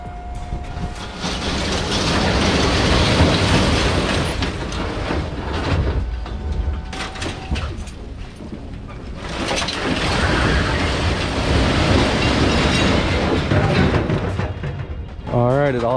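Scrap metal pouring out of a dump trailer at a scrapyard, a long loud rumbling, crashing slide that eases midway, then surges again before a short squealing scrape at the end.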